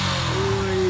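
Motorcycle engine holding a steady mid-pitched drone for a moment, its tone edging slightly higher near the end.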